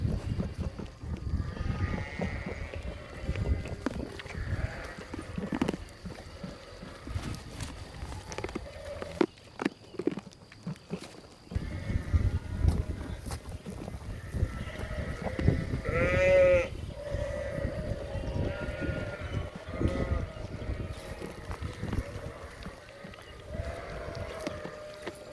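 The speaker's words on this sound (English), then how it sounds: "So all the sheep here should recognize this area of our farm." Ewe lambs and sheep bleat on a farm while being moved through yards, scattered calls near and far over shuffling, gate clatter and steady outdoor background noise.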